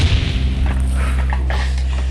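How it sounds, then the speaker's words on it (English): A single cannon fires in the Georgian era, a deep, loud boom that keeps rumbling as a low, sustained roar through the whole stretch, with no voices over it. "That was just one cannon going off."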